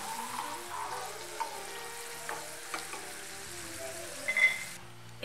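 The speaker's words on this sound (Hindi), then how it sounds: "और इसे हम हल्का फ्राई करेंगे।" Almonds frying lightly in ghee over a low flame give a soft, quiet sizzle with a few faint stirring clicks, close by and fairly even.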